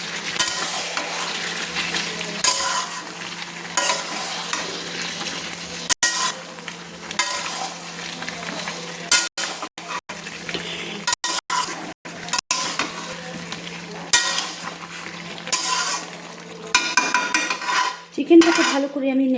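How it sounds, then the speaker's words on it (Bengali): Spicy chicken with lemon juice being stirred as it fries in a pan, steady sizzling under repeated scraping and clinking of a utensil against the metal, close and continuous, with no voices. "দিয়ে ভালো করে আমি চিকেনটাকে আবার নেড়ে নিচ্ছি।"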